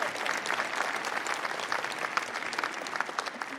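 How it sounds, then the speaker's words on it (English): A congregation applauds prayer practitioners during a church service, a dense, even wash of clapping from many hands that carries on without a break. "Let's give them a round of applause again"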